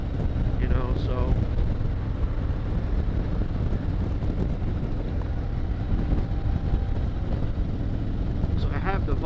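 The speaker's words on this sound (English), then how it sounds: "So I have the visor down right now, and I do hear quite a bit of wind coming in." Steady buffeting wind roars inside a Bell Eliminator motorcycle helmet with the visor down while riding behind a fairing, a loud constant rush with engine rumble underneath.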